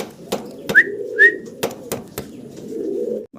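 A pair of giant homer pigeons coo close by in low, throaty murmurs, with a couple of brief whistling notes and a few sharp clicks or taps between them.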